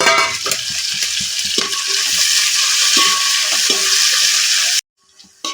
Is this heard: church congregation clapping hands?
no